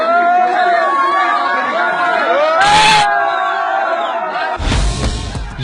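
A hostile crowd shouts at soldiers, loud overlapping voices yelling and chanting close by, with bursts of louder roaring noise breaking through the din.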